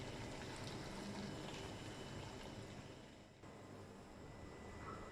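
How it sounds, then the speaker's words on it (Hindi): Rice boiling in a pot of water while cooking biryani: a continuous bubbling, churning simmer with a faint, even watery texture, steady and alone with no talking. "अब चावलों को उबाल लेते हैं।"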